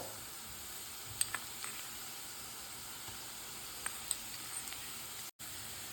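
Sliced onion with ginger-garlic paste frying in coconut oil in a pan, a soft, continuous sizzle heard alone with a few faint stirring ticks and a brief dropout near the end.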